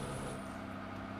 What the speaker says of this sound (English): I know the truck's pretty loud